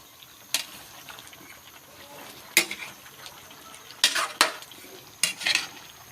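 Pakbet, an Ilocano vegetable stew with mudfish, being stirred in a pot, with a few distinct metallic scrapes and clanks of the spoon against the pot in irregular bursts over a low background hiss.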